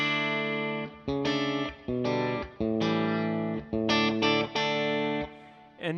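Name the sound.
guitar through Cloud9 Reverb pedal on a pedalboard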